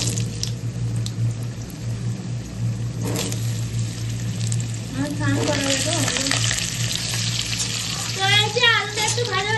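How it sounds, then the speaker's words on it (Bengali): Potatoes go into hot oil with whole spices, cumin and black pepper, for a mutton jhol, hissing in a loud, steady sizzle punctuated by stirring and scraping, while a voice talks over it. "এবার দিয়ে দেবো আলুগুলো।"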